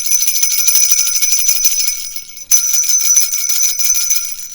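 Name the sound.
bells ringing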